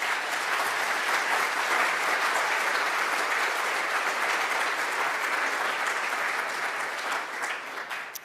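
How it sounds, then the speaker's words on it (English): Sustained applause from a conference audience during an opening session, a dense, even roar of many hands clapping that holds steady for several seconds before thinning slightly at the end. "I would say a second round of applause is really needed"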